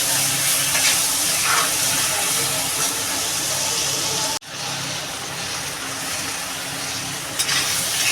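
Prawn curry with plantain and potato sautéing in a pan with salt, turmeric and green chillies, a loud continuous sizzle and hiss, briefly cut off midway, then resuming.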